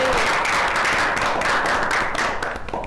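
An audience at a franchise business event gives dense, continuous applause to welcome a family, with a steady wash of many hands clapping close by for about three seconds.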